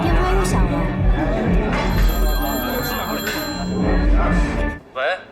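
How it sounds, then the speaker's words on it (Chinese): A mobile phone rings repeatedly through the clip in an indoor scene from a Chinese television drama, its steady electronic tone sitting beneath music and room sound, with a brief ring burst near the end. "你电话又响了。"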